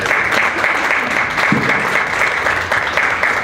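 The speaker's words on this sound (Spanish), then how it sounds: "ustedes aplaudan ahora a la Clarita" An audience applauds Clarita at an event about social security for Chilean musicians, with steady, full applause from many hands sustained throughout and a brief low voice murmur partway through.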